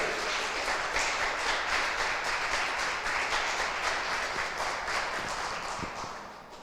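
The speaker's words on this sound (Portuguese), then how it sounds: "Dá uma salva de palmas a ele" A church congregation gives a round of applause, many hands clapping in a rapid, irregular patter that holds steady and then fades slightly toward the end.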